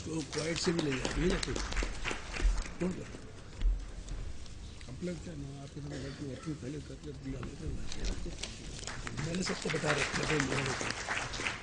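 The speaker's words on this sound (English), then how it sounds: "request the house to welcome him with a thunder applause" Sustained crowd applause at a chartered accountants' study circle meeting, dense clapping throughout, rising and falling in intensity, mixed with some murmuring voices.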